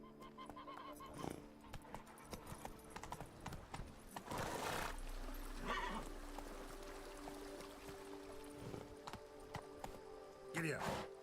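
A horse whinnies twice, once near the middle and again at the end, over clip-clopping hooves and a rider's urging voice.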